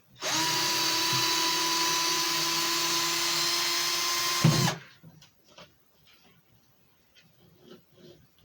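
A power drill whines steadily for about four seconds while driving into a wooden craft piece, stops abruptly, then quiet rustling and handling noises follow.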